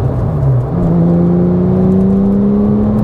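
Porsche Cayman GT4 sports car engine heard from outside, accelerating with a steady rising drone that climbs in pitch over a few seconds, loud and close with no talk.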